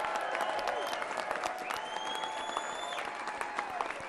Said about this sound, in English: Let's give a round of applause, everybody.